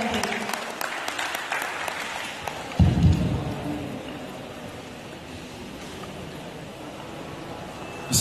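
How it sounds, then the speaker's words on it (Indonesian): An audience at a digital marketing talk show at an expo applauds a CEO as he is introduced, a broad, steady crowd clapping that fades gradually over several seconds, with a brief thump partway through. "Monggo, tepuk tangan untuk Om Hendrik."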